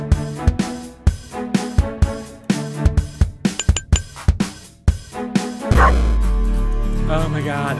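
Cartoon pug barking in the video game Turbo Pug: a quick series of sharp, high yips and bow-wows in a steady rhythm, loud and close, ending in a whimper under a swelling game tone.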